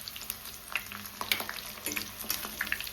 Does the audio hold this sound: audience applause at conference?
no